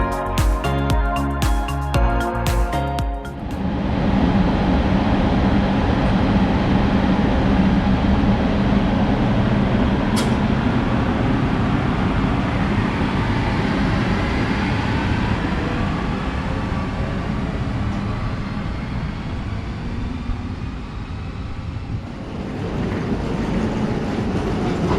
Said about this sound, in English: here we can see some more trains